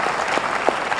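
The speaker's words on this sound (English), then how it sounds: "So your clapping should reflect the taste of the food" Audience applause at a regional school conference hall in Indore, a steady wash of many hands clapping close and fairly loud for about a second, with a few sharper individual claps standing out.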